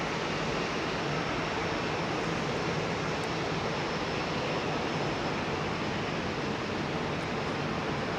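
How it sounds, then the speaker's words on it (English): A Boeing 747-400 airliner takes off at London Heathrow Airport, a broad steady roar of jet engines heard from a distance and holding constant throughout, with no voices. "Let's get her up. Beautiful old 747-400."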